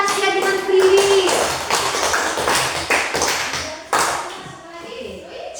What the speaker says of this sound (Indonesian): Oke, tepuk tangan untuk Tasya dengan Prilly.